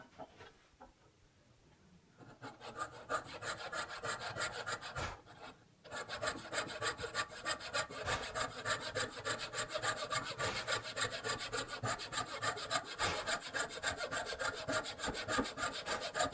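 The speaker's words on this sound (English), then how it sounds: "I lean the saw forward a little bit so that I'm cutting more into the wood on the top" A hand fret saw cutting a wooden reindeer shape, the blade tilted forward into the top of the cut, makes a steady run of close, raspy strokes after a quiet start and a brief pause, loud and near with no talking.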